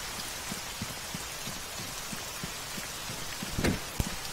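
Rain falling steadily across an ArmA 3 military battlefield, a dense even hiss with scattered drop ticks and a brief louder patter near the end, no voices.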